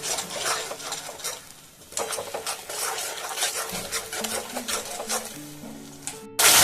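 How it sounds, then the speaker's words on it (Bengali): Spice masala stir-fried in oil with a little sugar for a pumpkin kofta curry, a spatula scraping and clinking against the pan in irregular strokes over a soft sizzle, with a louder burst at the very end. "এখন মশলাকে খুব ভালো করে কষিয়ে নেব।"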